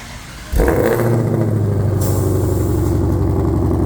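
A Ford GT500 engine fires up and revs loudly up close, settling into a strong, steady rumble that holds for several seconds with no talking.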